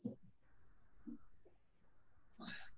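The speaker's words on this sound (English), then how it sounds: "Very boisterous cricket." A single cricket chirps in short, evenly spaced bursts, faint and steady in a quiet room, with a few soft thumps and rustles nearby.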